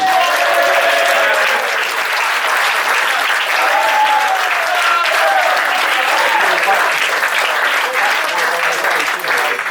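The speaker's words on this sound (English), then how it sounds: "The two players, give an extra big round of applause, please, for Adam Hunt and Pat McCafferty." An audience at a football club awards dinner breaks into loud, continuous applause, a dense wash of clapping that carries on steadily throughout, with some voices and cheers threaded through it.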